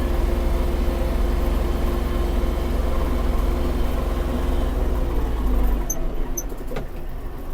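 A Kubota GL-320 Japanese mini tractor's engine runs steadily close by, its exhaust giving a continuous low rumble throughout with no talk, shifting slightly in tone near the end.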